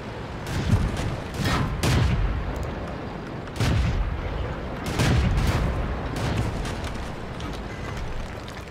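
Artillery booms repeatedly in World of Tanks around a British tier 5 heavy premium A33 Excelsior tank, heavy blasts landing every second or so amid a constant loud rumble of battle.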